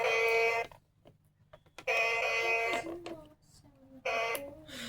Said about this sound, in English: it also has a horn sound